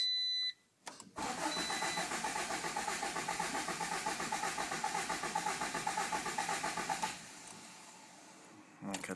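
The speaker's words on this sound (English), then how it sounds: "I'm going to show you the crazy no start crank for half an hour and then finally start thing" A Honda B18B engine cranks on a cold start with a long run of steady, rhythmic starter pulses that stay close and loud throughout, opening and closing with brief quieter moments and small clicks.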